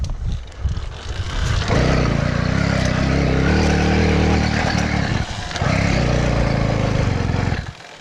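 A motorised bicycle's small two-stroke engine, freshly fitted with a cheap new reed valve, starts up and runs loud and close with a rough, buzzing tone, dipping briefly midway before picking up again and then cutting out at the end.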